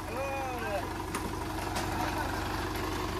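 A tractor engine idles nearby with a steady, low, chugging pulse, while faint clanks and rattles sound over the running motor.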